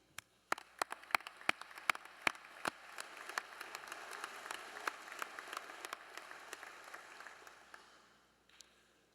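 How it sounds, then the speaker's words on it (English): Applause at a Pro Football Hall of Fame round table gathering, opening with a few sharp separate claps that quickly swell into a smaller crowd's steady clapping, then fading out near the end. "I want everyone to give yourselves a round of applause for who you are"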